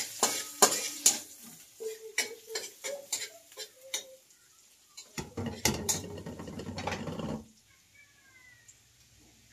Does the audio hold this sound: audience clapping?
no